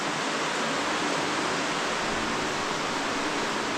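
Steady, loud rush of flowing water fills a Derbyshire spar mine cave, a constant broadband roar like a stream or small waterfall close by, unbroken throughout with no voices.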